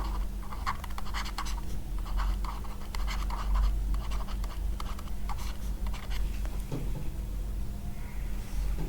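A pen scratches steadily across paper while short notes are jotted during a lecture, a close, continuous run of quick strokes over a low steady hum.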